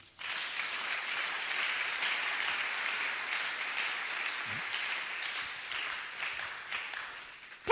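A church congregation claps and applauds God in a long, steady wash of hands that fills the room at an even level, with no talking over it.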